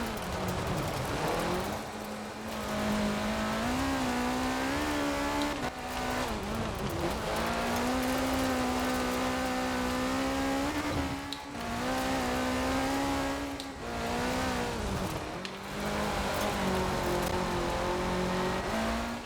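Ford RS200 rally car in a racing game, its engine revving hard and continuously with pitch rising and dropping through gear changes, loud and close throughout, with occasional tire squeal.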